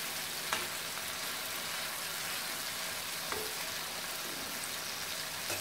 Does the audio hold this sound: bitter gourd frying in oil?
yes